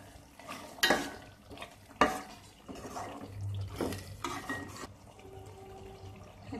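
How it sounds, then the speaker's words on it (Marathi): Cooked mutton stirred with chili powder for mutton biryani, soft wet scraping and sloshing strokes in a pot, a few sharper clanks, fairly quiet overall. "आता आपल्या आवडीप्रमाणे आपण थोड्याशा तिखट मिक्स करूया."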